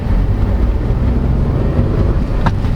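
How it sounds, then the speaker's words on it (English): A steady, loud engine drone from a 2022 Nissan Almera VL Turbo holds at a constant pitch with deep low rumble, the turbocharged engine humming along without pauses. "That's really the sound of this engine."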